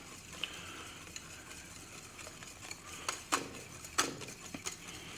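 Custard is whisked by hand in a bowl while being tempered for low-carb keto crème brûlée. Soft, irregular clinks and scrapes sound close by, with several sharper taps standing out now and then.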